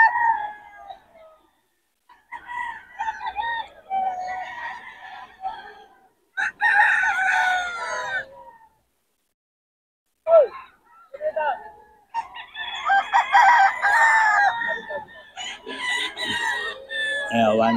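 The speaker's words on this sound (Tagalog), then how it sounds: "Mga manok ni Boss Ray." Roosters and chickens offered for sale at a Bocaue market, brought by a seller from Pangasinan, crow loudly in repeated, overlapping bursts with short clucks and quiet gaps between calls.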